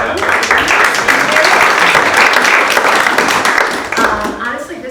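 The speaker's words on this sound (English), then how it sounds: "So could we give a round of applause to them?" A room of people at a community listening session gives a round of applause, loud and dense clapping that tapers off near the end as voices begin to come through.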